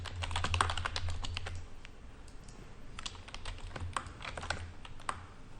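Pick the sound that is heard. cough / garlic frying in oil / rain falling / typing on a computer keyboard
typing on a computer keyboard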